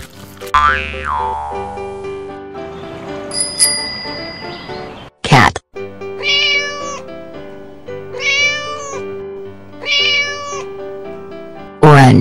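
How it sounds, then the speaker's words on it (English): A cartoon cat meows several times over a bouncy children's music track, with springy boing effects and a bell-like chime around the calls, all close and fairly loud. "Cat."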